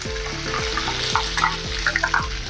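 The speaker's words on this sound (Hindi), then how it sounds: "कड़ी पत्ता डाल देंगे" Curry leaves hit hot oil already holding sesame and mustard seeds, giving a steady close sizzle and frying crackle with repeated scraping stirs of a spoon in the pan.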